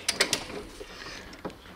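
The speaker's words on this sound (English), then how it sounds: "coming in with the torque wrench" A torque wrench tightens bolts on a Can-Am Maverick X3, giving three quick ratcheting clicks at the start followed by softer metallic mechanism sounds and one more click, close and brief.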